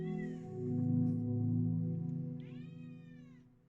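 A domestic cat gives a long drawn-out meow that rises and falls, then a second rising cry, close and clear in a quiet room.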